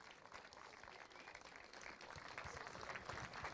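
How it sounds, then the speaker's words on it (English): A crowd applauds the Club 100 team at a British Universities Kart Championship evening, steady clapping that builds slightly in loudness toward the end, heard at a moderate distance. "please, one last applause, please, for my team, Club 100"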